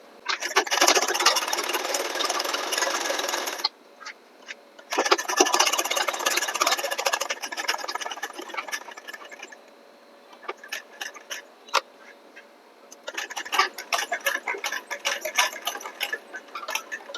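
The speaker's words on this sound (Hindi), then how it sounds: "तो इस तरह से पूरे कॉलर पर सिलाई लगा दीजिए।" Close, steady whirring of a sewing machine running stitches along a kurta collar, coming in several bursts of a few seconds each, separated by quieter pauses with faint clicks and handling.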